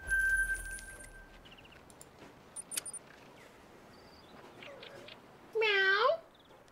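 A pet cat gives a short, loud meow near the close, after a quiet stretch with faint clinks and small rustles in a room.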